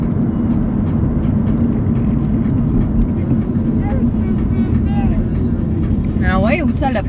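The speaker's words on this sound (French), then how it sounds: "Gros camion." A big truck passing on the road, heard from inside a moving car as a loud low rumble with a hiss near the end, while people talk over it.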